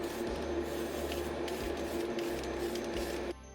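Clear coat sprayed from an aerosol can onto a diecast Peugeot 604 model car, a steady close hiss for about three seconds that then cuts off.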